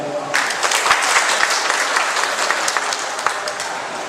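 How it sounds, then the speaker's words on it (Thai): A burst of crowd applause at a training graduation ceremony, starting abruptly and continuing as steady, close, dense clapping with a few sharper individual claps standing out. "ขอเสียงปรบมือนิดนึงครับ"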